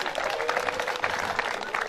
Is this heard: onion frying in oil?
no